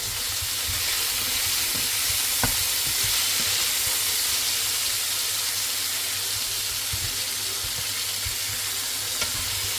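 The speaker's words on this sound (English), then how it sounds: "So start to squash the tomatoes as they cook." Tomatoes cooking down in a pan for a tomato basil pasta sauce, giving an even, continuous sizzle and hiss close by. A few faint taps from squashing and stirring sound now and then.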